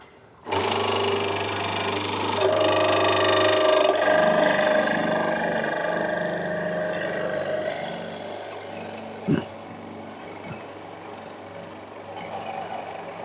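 A Charnwood W316 hollow chisel morticer, fitted with a 1/2-inch chisel, runs with a loud, steady motor whine as the chisel is pressed down into the wood, with a single knock midway and the hum continuing to the end.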